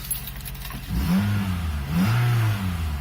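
A 2001 Toyota Celica GTS engine started and left running after an oil change, a close mid-pitched hum that rises in two short revs before settling, with a faint jingle of keys.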